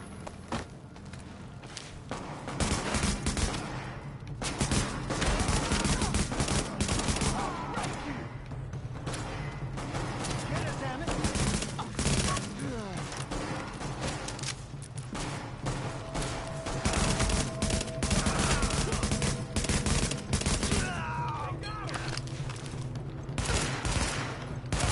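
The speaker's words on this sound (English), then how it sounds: "The escort party's taking heavy fire from the roof." Gunfire in the video game Tom Clancy's The Division, with dense bursts of automatic fire and scattered shots overlapping thuds and movement, holding loud for the full length alongside game voices.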